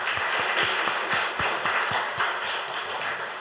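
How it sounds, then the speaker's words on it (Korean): Dense, continuous applause from a church congregation, with a few louder individual claps standing out as it carries on. "교사들을 위해서 한번 박수 더 해주세요"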